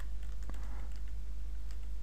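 Light typing on a computer keyboard gives a few scattered soft key clicks over a steady low electrical hum, close and faint.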